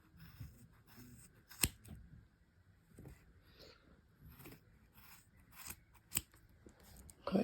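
Scissors snipping pom pom yarn loose from a frame: a steady run of close crunchy cuts with occasional sharper snaps and soft rustling of yarn between them, no talking.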